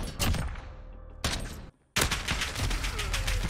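Rapid SMG gunfire in Modern Warfare multiplayer, a 2v2 gunfight match: loud, close bursts of automatic fire with a short silent gap in the middle before another long burst.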